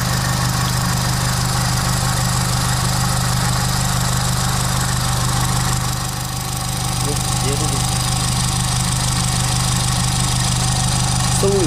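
Car engine idling steadily just after a fresh oil change, a constant low hum with even mechanical vibration throughout, recorded close by with faint speech-like noise.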